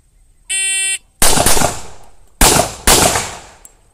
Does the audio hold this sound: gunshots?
yes